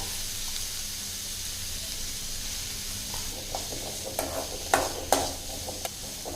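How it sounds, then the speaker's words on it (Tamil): Bitter gourd frying in a spoonful of oil in a pan for a Tamil-style chutney, giving a steady low sizzle and hiss with a few louder stirring scrapes and clatters toward the end. "பாவக்காய் வந்து நல்லா வதங்கட்டும்."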